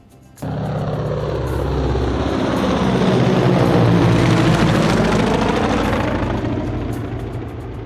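A mini arcade game plays a loud, steady airplane sound effect: an engine drone that starts abruptly, swells in the middle, then eases slightly before the end.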